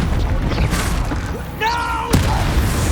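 A Bombarda spell explosion in the Hogwarts Legacy video game: a rising tonal whoosh leads into a sharp, loud blast near the end, set against busy background game sound.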